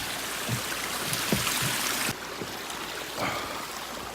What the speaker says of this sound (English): Little creek action.